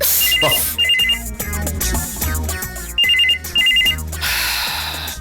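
A telephone rings in repeated melodic bursts over background music, loud and close, with short pauses between the rings.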